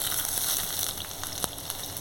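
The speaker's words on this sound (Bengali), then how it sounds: "তারপর দিয়ে দেব হচ্ছে কেটে রাখা পেঁয়াজ।" Chopped onions sizzling in hot oil in a pan while cooking a Bengali fish curry, with a steady broadband crackle and a few sharper pops, close and alone.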